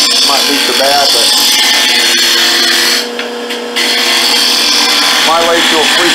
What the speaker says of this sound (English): my lathe tool freestyle, of course, has a carbide tip, so it's gonna cut it either way